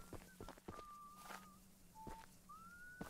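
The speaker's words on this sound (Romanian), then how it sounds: "Aud pe cineva care fluieră." A person whistling short tonal phrases in the horror game Choo Choo Charles, heard at a distance among soft footsteps and a low background hum, with pauses between the notes.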